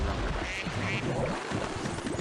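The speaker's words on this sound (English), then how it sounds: "Are they rubber ducks? I guess they're rubber ducks." Rubber ducks quacking in the World of Tanks Blitz video game, a few short nasal quacks close by over a wash of water and engine noise, with faint talk underneath.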